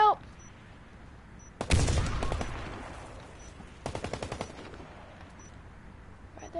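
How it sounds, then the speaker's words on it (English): Rapid automatic gunfire from a bomb-defusal shooter video game, with two loud sustained bursts of rattling shots over steady background game noise, close and dense. "What the heck are they shooting?"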